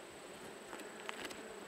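Soft, steady buzzing of bees fills the background, faint and continuous, with a few light taps.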